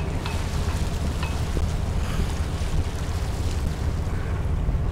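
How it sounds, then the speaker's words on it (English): Steady wind roars across open water on Lake Washington, Seattle, a constant low rumble with faint splashes and creaks, no voices. "Windy out here."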